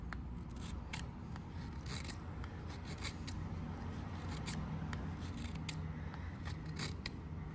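Knife with a D2 steel drop-point blade shaving very thin curls from wood, producing soft, quiet repeated scraping strokes at a close, steady pace with no talk.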